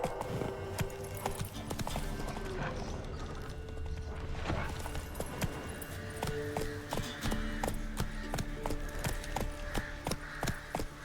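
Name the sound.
horse galloping in the video game The Witcher 3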